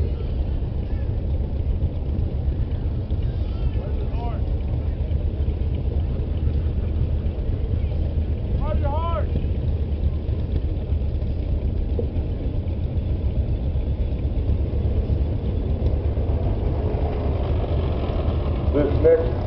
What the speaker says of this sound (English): It's followed by a 1951 Farmall M